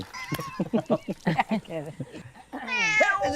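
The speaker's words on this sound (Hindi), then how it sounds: "बिल्ली रास्ता काट दिया।" A cat meows with a drawn-out, wavering cry near the end, preceded by spoken dialogue in a drama scene.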